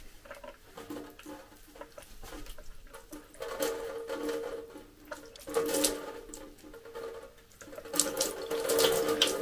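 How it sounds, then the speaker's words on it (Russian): Warm water runs from a tap into a washbasin with a steady splashing patter, swelling louder in bursts and then easing, close by with no talking. "У меня теплая вода в умывальнике."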